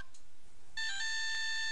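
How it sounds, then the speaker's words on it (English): Phone ringtone from the Phoenix Wright: Justice for All video game, a bright electronic melody that starts partway through and keeps ringing steadily and clearly, alone without any talk. "I bet it was this ringtone that caused it."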